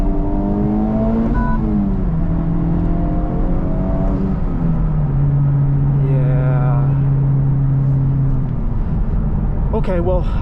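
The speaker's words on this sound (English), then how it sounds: "I'll be able to do a nice acceleration here" Honda Civic Type R FL5 turbo engine accelerating hard in cold weather, with rising revs climbing through several gearshifts, heard from the cabin, and someone talking over the engine.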